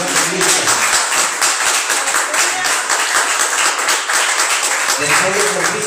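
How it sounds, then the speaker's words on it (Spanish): A church congregation applauds during a Palm Sunday service, a dense, steady wash of many hands clapping close and loud for the whole stretch, with no speech over it. "Un aplauso para Cristo."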